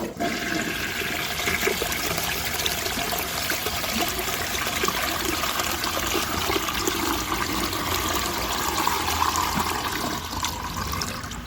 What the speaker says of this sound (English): The flush is nice and long, and it looks thorough.